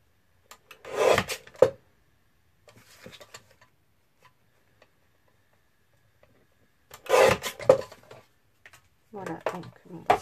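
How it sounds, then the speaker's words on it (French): Scissors cut around a paper decoration for a scrapbook album, making three short bursts of close, dry rasping snips separated by quiet pauses, with a faint rustle between them. "Je vais découper autour."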